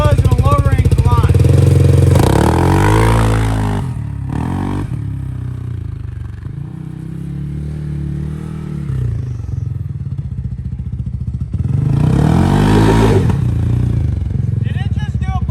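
A CFMOTO ZForce 500 side-by-side revs hard on a low-range launch, loud engine bursts at the start and end with a quieter idling stretch between, and people talk over it.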